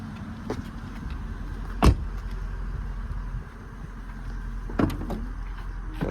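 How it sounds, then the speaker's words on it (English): Power trunk lid on a 2010 Mercedes S550 opening, a low motor hum with a couple of sharp mechanical clunks, one early and one near the end, over steady outdoor background. "See, power trunk"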